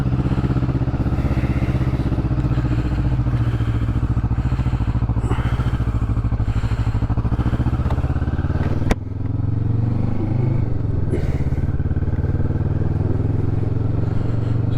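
A cold Kawasaki Vulcan 650S motorcycle engine revving loudly and close, held at a high, steady idle with a rough pulsing rumble, a sharp click partway through, then settling again.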